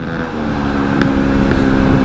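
A loud engine drones steadily with buzzy exhaust harmonics, like a Yamaha Aerox scooter with an aftermarket exhaust held at high revs close by, with no voices.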